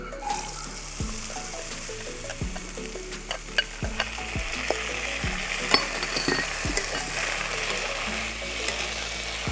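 Lentils frying in a pan with ground curry leaves, a steady sizzle broken by repeated scraping stirs and light clinks of the spoon against the pan.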